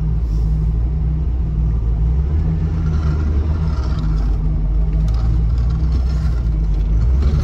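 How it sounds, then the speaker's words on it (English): The V8 engine of a 1974 MG B GT V8 running at a steady idle, a loud, close, continuous low rumble with an even, unchanging tone throughout. "And the V8 fires up nicely, whether it's hot or cold."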